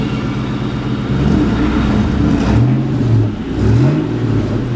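A 2001 Ford Mustang Bullitt engine, fitted with a JBA H-pipe and stock mufflers, revs through the exhaust in a few sharp blips, each rising and falling in pitch over a steady idle rumble, loud and nearby.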